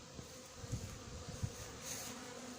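Captured hornets and honeybees drone inside a polyester mesh tent, a low steady buzz with faint intermittent wingbeat pulses and a brief higher whine near the end.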